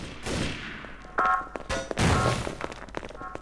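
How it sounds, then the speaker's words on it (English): Shotgun blasts in the game Trouble in Terrorist Town: a few sharp, loud reports spaced irregularly over a few seconds, each with a brief echoing tail, over busy background game noise. "I'm here shooting with a shotgun"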